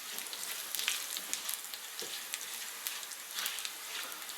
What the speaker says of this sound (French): Je rajoute mes graines et je les fais revenir 30 secondes